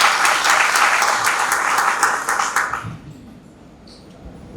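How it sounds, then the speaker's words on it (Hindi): An audience claps together at a motivational talk, a dense burst of applause close by that fades out after about three seconds, leaving a quiet room. "आपके लिए भी जोता ताली होनी चाहिए"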